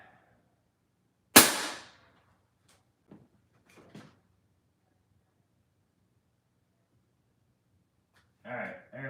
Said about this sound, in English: we'll just go ahead and shoot a pellet